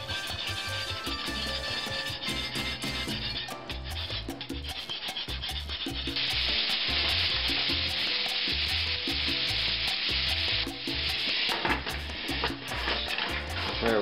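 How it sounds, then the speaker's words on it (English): Pats of butter being worked into a hot pan give a steady, continuous sizzle with rubbing, scraping strokes, under background music with a regular beat. "If you'll notice how I work the butter in, one or two, or sometimes like I started with 3 pats at a time."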